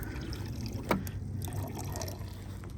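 Water trickles and splashes into a container while a foliar spray fertilizer mix is being prepared, a quiet continuous pour with one brief louder splash near the start.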